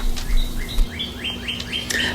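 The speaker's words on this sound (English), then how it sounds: "there's birds making noises everywhere, and I thought I'd share them with you." Birds singing in a sunny backyard on a morning in Tuscaloosa, Alabama: a string of bright, rising chirps repeats about every quarter second, clear and fairly close over a low, steady background hum, with no voices.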